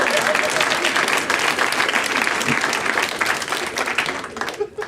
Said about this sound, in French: On peut leur donner une bonne main d'applaudissement